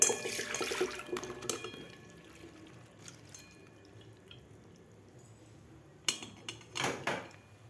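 Quiet trickling and dripping water as soaked moong dal is drained in a strainer, with a few metallic clinks of the strainer or pot, louder splashes near the end.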